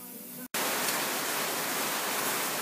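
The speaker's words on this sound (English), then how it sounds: "as the rain comes down." Rain falls outside a machine shop as a loud, steady hiss that starts abruptly after a brief quieter stretch and a momentary cutout, continuing without talk.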